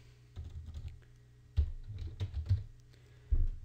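Computer keyboard keys clatter in short irregular bursts as a word is typed into a search bar, close and fairly quiet, with no talking.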